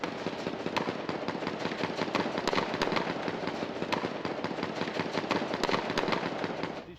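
Rapid bursts of gunfire during an armed clash between police and attackers after a bomb attack on a police station in Sultanbeyli, Turkey, as dense, loud cracks that continue without a break for the whole stretch.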